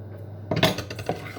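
Metal spoon scraping and clinking against a mixing bowl while crumbly flatbread dough is worked, a short burst of close, uneven scrapes and taps after a near-silent start, alone with no talk.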